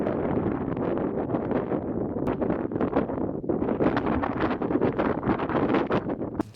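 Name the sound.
strong morning wind blowing on microphone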